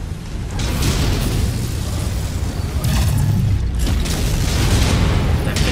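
Missile barrages launch and detonate in a MechWarrior 5 battle, a dense, loud, continuous rumble of booms and blasts with sharper bursts breaking through several times, close and unrelenting throughout.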